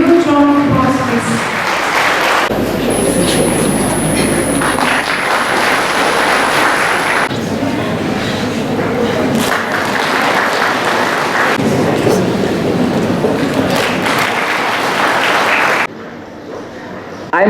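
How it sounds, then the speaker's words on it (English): Audience applause at a college award ceremony, a loud steady crowd of clapping sustained for roughly fifteen seconds before dropping off abruptly near the end. "a huge round of applause"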